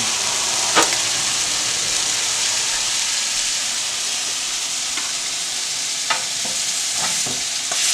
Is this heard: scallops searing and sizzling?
yes